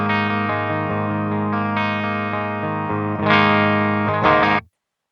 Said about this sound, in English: And the clean channel without the pedals on sounds something like this.